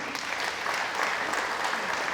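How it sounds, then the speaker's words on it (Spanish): A church congregation in Oaxaca, Mexico, applauds during a worship service: dense, sustained clapping from many hands fills the room, loud and steady from start to finish with no voices clearly standing out. "Dale fuerte el aplauso al Señor."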